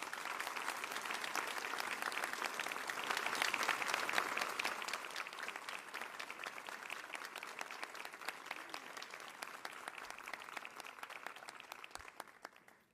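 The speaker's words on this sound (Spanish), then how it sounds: "Les pido por favor un fuerte aplauso para cada uno de ellos." Sustained applause from a seated audience at a formal public report ceremony, a dense, even wash of many hands clapping that holds steady and fades near the end.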